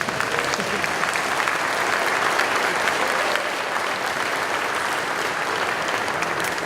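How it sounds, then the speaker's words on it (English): Audience at a 2017 Georgia Works graduation ceremony applauds steadily, a dense, even wash of many hands clapping at full volume throughout. "let's give that a round of applause"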